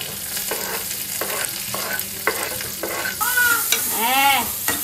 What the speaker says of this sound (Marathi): ढकलूया लसूण बारीक चिरून घेतलेलं लसूण त्याचा लगोलग कांदो